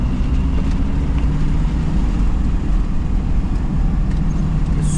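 An engine strains loudly and continuously as a car pushes uphill on a rough, rocky mountain road near Kalam, Swat, producing a constant low rumble with no break.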